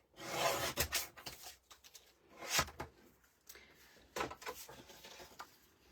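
Coloured cardstock is trimmed down to fit, making close, dry scraping and rubbing strokes in uneven bursts, with no talk.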